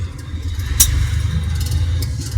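Car engine humming steadily in low gear while driving, a close, even low rumble with a brief clatter partway through, no talking.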